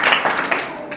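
A church congregation claps with both hands in a quick burst of applause, dense and lively for about a second.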